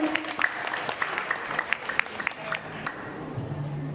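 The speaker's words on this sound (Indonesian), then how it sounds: "Tepuk tangan semuanya." Applause from a women's Quran study group gathered on an outing at Solo Safari, a light, uneven patter of claps that stays moderately loud for about four seconds with a faint murmur beneath.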